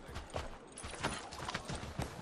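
Horse hooves in Assassin's Creed 3 clip-clop in a steady trotting rhythm, fairly faint and continuous against a noisy background, with no talk.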